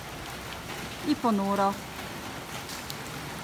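Light rain falls steadily during a cyclone on Mauritius, an even background patter throughout, with a brief spoken phrase over it near the middle.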